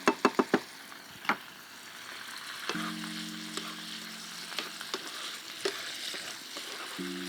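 Orange zest sizzling and frying in a hot pan alongside blue eye fish with orange and honey, a steady soft crackle with a few sharp utensil knocks near the start.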